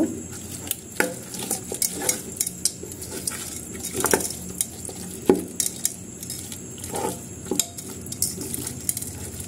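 Beef nihari ingredients, including beef trotters, being mixed together by hand or spoon in a pot: soft, irregular squelching and stirring with scattered light clinks of utensil against metal, close and fairly quiet.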